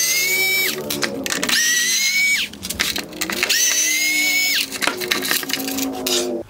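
A power screwdriver backs out T20 screws from the black bezel of a 2015-2020 Dodge Charger OEM xenon headlight, whirring in several close, loud bursts that rise in pitch as each screw spins free.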